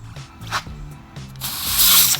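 Air rushes out of a carbon 27.5-inch bicycle wheel's tubeless valve with the core removed, a bright hiss swelling loud over the last second after a few soft clicks and rubbing handling noises.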